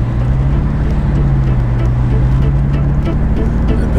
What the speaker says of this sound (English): That's gotta be the exhaust.